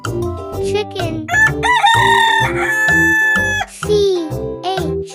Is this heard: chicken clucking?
yes